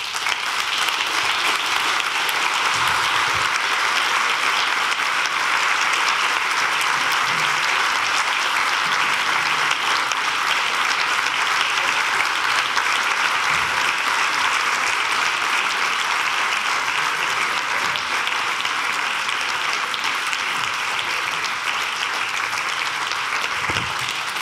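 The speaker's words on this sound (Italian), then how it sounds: "Applausi per Gramsci sono questi" A lecture audience gives a long, loud, continuous round of applause, an even roar of many hands clapping that holds steady throughout with no speech on top.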